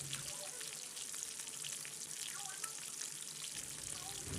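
Lahori-style fish fillets crisp-frying in hot oil, a steady dense sizzle and crackle running evenly throughout with faint watery hiss and no voices.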